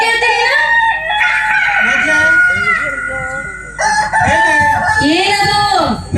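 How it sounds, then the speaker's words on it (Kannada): A rooster crows loudly and close by, several long wavering calls in succession with a brief dip before the final crows, with no talk over it. "ನಾನು ಹೇಳಿದ್ದು ಕೋಳಿ ಅಂತ"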